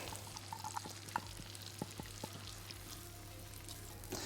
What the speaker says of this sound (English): So once we hear the butter starting to sizzle, we can add in our onions.